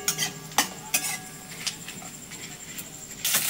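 Bay leaf, dried chilli, whole garam masala and cumin go into hot oil for tempering, a soft sizzle broken by several sharp clinks and scrapes of a utensil against the pan.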